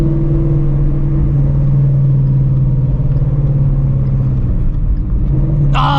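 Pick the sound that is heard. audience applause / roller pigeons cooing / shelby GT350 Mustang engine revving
shelby GT350 Mustang engine revving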